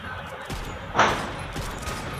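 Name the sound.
sniper rifle gunfire in a mobile video game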